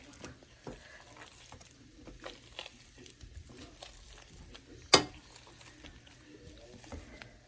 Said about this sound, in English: Take your masher and mash them up.